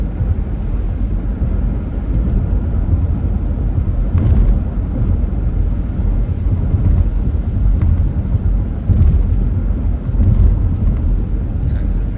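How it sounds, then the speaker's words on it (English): Road traffic streams past nearby in a steady, loud rumble of engines and tyres, with wind buffeting the microphone and no clear gaps between vehicles. "There's a surprising amount of traffic."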